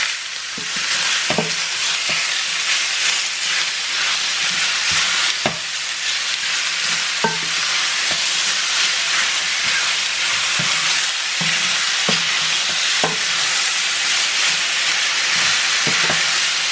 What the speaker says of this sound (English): I'm going to add the meat. That's the meat going into the pan now.